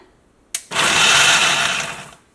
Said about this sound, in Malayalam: അപ്പോൾ ഞാൻ മിക്സി ഓണാക്കാൻ വേണ്ടിയിട്ട് പോവാണ്